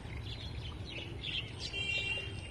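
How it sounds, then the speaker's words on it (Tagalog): Birds chirp and tweet in Nepal near guava trees and garden greens, a scatter of light, fairly faint calls over a soft outdoor background with no talk. "Ang daming ibon."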